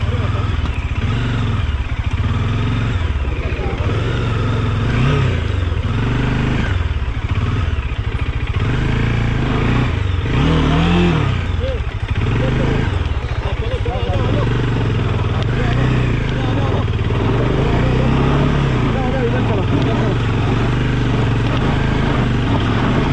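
Motorcycle crossing a river on a moto ride near Jawhar, a steady engine drone with splashing and clatter, heard beneath someone talking at close range.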